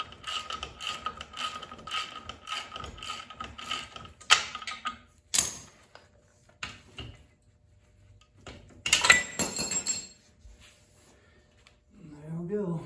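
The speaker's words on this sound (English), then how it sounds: "I'm just going to screw the bolt all the way out" Bolt being unscrewed from a KPR 200 motorcycle rear shock, with intermittent ratcheting clicks, metallic creaks and tool clinks in short bursts, a person talking between them.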